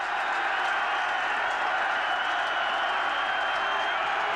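A stadium crowd at Memorial Stadium stands and roars for the defense during a 1999 college football game, a steady, dense wall of cheering and clapping with no breaks for the whole stretch.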